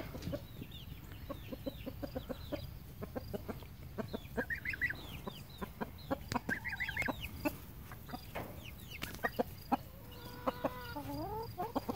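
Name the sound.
young chicken clucking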